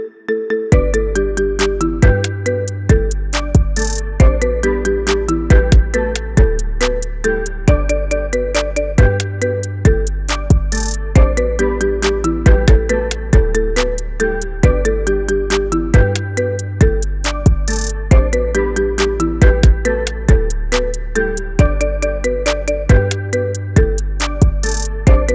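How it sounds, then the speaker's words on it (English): A marimba remix of a song, made as an iPhone ringtone, plays loud and clear: bright mallet notes in a steady looping pattern over a thumping bass line, with no voices. "Get this cool ringtone for your phone now."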